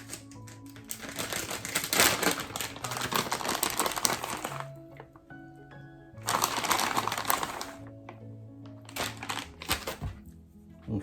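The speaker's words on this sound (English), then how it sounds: "Let's give that a stir" Cheese is stirred into chicken spaghetti in a pot, giving bursts of scraping, squelching mixing noise in several uneven passes separated by quieter gaps.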